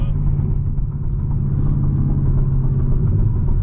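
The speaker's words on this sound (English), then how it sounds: "it does sound ridiculously good. I love it. You can't go wrong with a naturally aspirated V8" A modified 2008 Chevrolet Corvette's naturally aspirated V8 rumbles loudly and steadily from inside the car, a deep continuous engine drone with slight rises in pitch.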